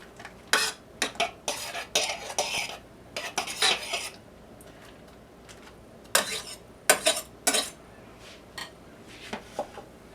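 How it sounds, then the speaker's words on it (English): A utensil scrapes and clinks repeatedly against a pot as chunks of cream cheese are added and stirred for a vintage 1976 gelatin salad. The bursts are close and irregular, separated by short pauses, with no voices. "And now I need to add the cream cheese."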